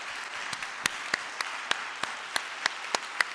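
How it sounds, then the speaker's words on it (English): Applause from the audience at an anniversary event, steady rapid clapping with a few sharper individual claps standing out at a regular beat, moderately loud and without talk. "I would give you a big applause."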